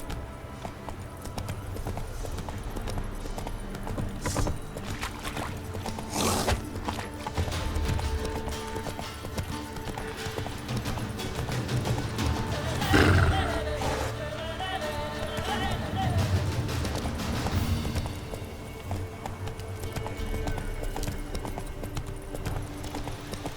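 Roach, the horse in The Witcher 3, clip-clopping steadily with rhythmic hoofbeats, with an occasional snort or whinny and a voice speaking over the footsteps.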